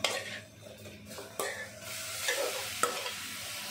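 Half a kilo of mutton goes into frying onions for a gongura curry and gets stirred, with a soft steady sizzle, a few sharp spoon knocks on the pan and gentle scraping, fairly quiet.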